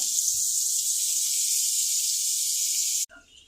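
Butter sizzles loudly in a hot pan as paneer masala is prepared, a steady close hiss that holds for about three seconds and then drops away sharply into faint kitchen sounds.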